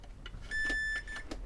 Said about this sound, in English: So we just put that onto continuity mode, so it beeps.